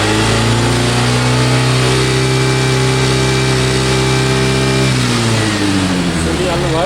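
A Bajaj Pulsar motorcycle engine with a newly replaced cam chain holds a loud, steady high rev, then drops and rises again, its droning tone sliding in pitch.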